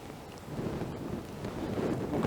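Storm wind pushes steadily down a street lined with buildings, a broad rushing roar that swells slightly toward the end, heard alone without any talking.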